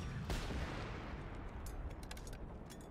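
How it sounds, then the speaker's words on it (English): Gunfire in the video game Generation Zero, a steady rumbling barrage with scattered distant shots and one sharper report near the start, heard continuously without talk. "What are you shooting at?"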